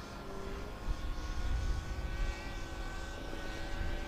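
A DJI Mini 2 drone's steady propeller buzz hums overhead, fairly faint and droning, with a constant high whine layered over low rumbling wind.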